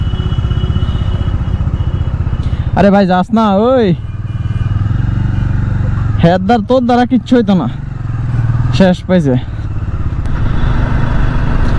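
A motorcycle with its exhaust removed runs loud and close with a harsh, raw engine roar that continues throughout, while someone talks over it in several bursts.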